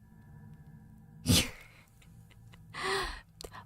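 A single sharp sneeze bursts out nearby over a quiet room, followed a moment later by a breathy exhale or sigh.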